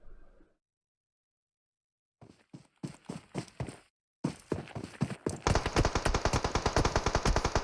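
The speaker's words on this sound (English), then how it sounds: "Oh, shots galore." Rapid gunfire from PUBG Mobile, first in sparse separate shots and then building into a dense, loud automatic burst of steady rhythmic rounds.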